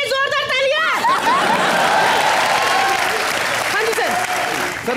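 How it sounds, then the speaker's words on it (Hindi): A comedy show audience bursts into loud applause for Sunny Deol, the heavy clapping continuous and close, mixed with cheering and chatter, while a synthesized musical sting plays at the start. "कितने सनी दी और खट्टे के लिए जोरदार तालियां।"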